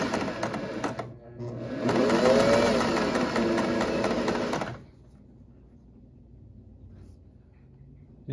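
A 1950s Singer 403A sewing machine runs in a rapid, steady whir as it stitches two pieces of fabric at a shorter stitch length for a few seconds, then stops, leaving quiet room tone.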